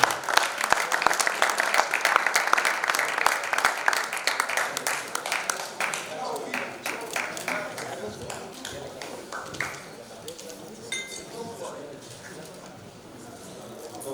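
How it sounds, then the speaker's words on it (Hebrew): An audience applauding a team's coach at a celebration gala for promotion to a higher league, dense clapping that gradually thins and fades, with voices and cheering mixed in. "קבלו במחיאות כפיים את מאמן הקבוצה שלנו, אהוד קחיל."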